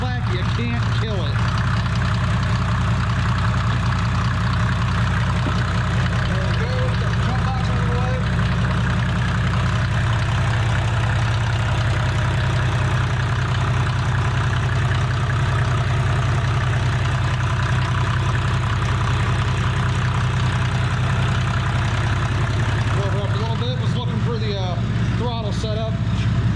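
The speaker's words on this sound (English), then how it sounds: "Sounds like an old Mercedes diesel. Clickety clack, you can't kill it." A 1987 Mercedes W126 300SD with the OM617 turbo diesel idles nearby, a loud steady low rumble with clattering diesel knock throughout, and a person speaks briefly over it.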